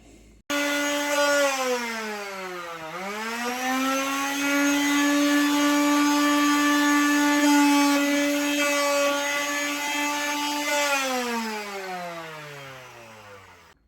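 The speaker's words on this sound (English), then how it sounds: "So we're sanding all the cabinets" Power sander working on wooden cabinets, a loud steady whine that ramps up, dips once, then holds before winding down at the end, close and without talk.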